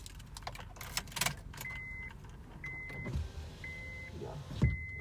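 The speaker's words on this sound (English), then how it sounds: "I'll close the window" A car's electric power window runs closed in several short whirring bursts, close and fairly quiet, with small clicks and rustles between them.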